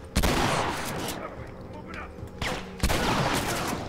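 Shotgun blasts in The Last of Us, loud booming shots: one sharp blast near the start and another toward the end, with lingering rumble and game noise between.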